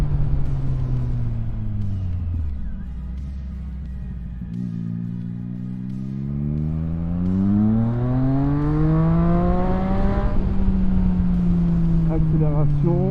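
A motorcycle on a group ride revs up, drops off, then climbs again as it accelerates and brakes, its engine pitch sweeping smoothly up and down, loud and close with steady wind rumble.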